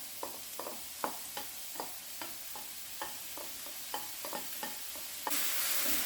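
Garlic and mushrooms frying over medium heat in a pan, a soft constant sizzle under a series of light, regular taps and scrapes from a utensil, with louder hissing near the end.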